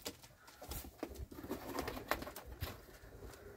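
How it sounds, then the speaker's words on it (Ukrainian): Young yellow Czech pigeons coo in a loft, soft repeated throaty calls overlapping close by, mixed with fluttering and shuffling noises and no talk. "З двох пар цьогорічні голуби."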